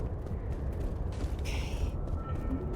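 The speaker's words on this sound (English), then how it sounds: "Get more ammo while I'm up here. Reloading!" A gun reloading in a zombie shooter game: mechanical clicks and a short ratcheting scrape over steady game background noise, moderately loud and without speech.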